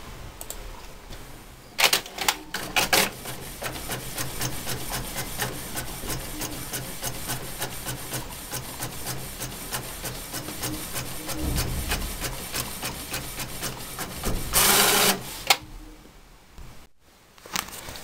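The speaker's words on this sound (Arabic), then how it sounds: "تضعها في الطابعة في مكان الورق العادي، ثم تضغط على امبريمي" A desktop printer prints a logo onto sticker paper, its mechanism whirring and rasping steadily with rhythmic feed clicks and a louder burst near the end as the sheet comes through.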